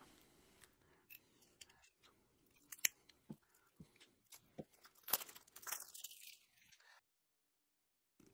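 Crinkly plastic wrap peeled and torn from two packs of game cards, a series of sharp crackles and rips up close, growing busier toward the end before falling silent.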